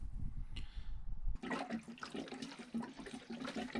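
Diesel is poured into a van's fuel tank. After a brief quieter start, a continuous gurgling rush of liquid runs close by.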